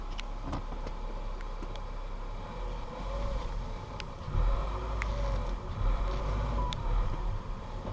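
Black Chevrolet Monte Carlo bought from a salvage auction, its engine idling in a low steady rumble that surges a little as the car tries to move, with a few sharp clicks and knocks along the way.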